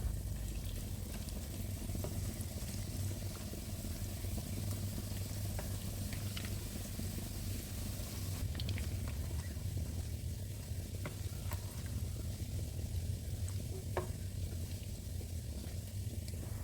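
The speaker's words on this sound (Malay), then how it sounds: "Minyak masak ni boleh ditambah lagi kemudian. Masukkan ikan bilis yang telah ditumbuk kasar." Coarsely pounded anchovies (ikan bilis) fry in cooking oil until crispy for sambal nasi lemak, a soft continuous sizzle with faint crackles and occasional stirring clicks, quiet and with no talk.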